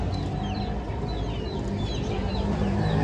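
Desi chickens cluck and squawk at a busy bird market, several birds calling repeatedly over a constant crowd and market din, close and loud.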